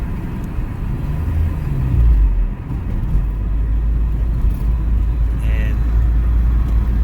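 An Acura TSX with a K24A2 engine rolls in neutral while its idle climbs. A steady low engine rumble and road drone run throughout, with someone talking over it.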